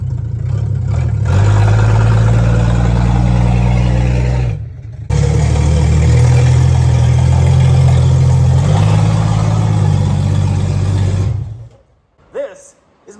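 Turbocharged Slant 6 engine in a 1963 Plymouth Valiant, fed boost through a Carter BBD carburetor, running loud and close with a steady low rumble and a brief dip before cutting off near the end.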